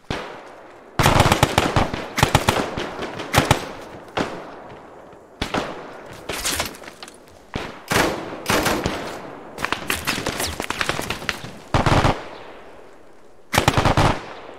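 Rifle fire in a WWII battle game set at Kharkov: a steady stream of sharp shots and overlapping volleys, some single cracks and some rapid bursts, loud and close, with short gaps between.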